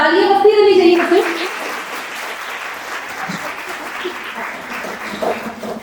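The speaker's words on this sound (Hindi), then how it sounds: "तो तालियां बजती रहनी चाहिए फिर" Applause at a women's day college event at Navyug Kanya Mahavidyalaya rises briefly under a speaker's voice, then settles into steady crowd clapping with scattered background sounds.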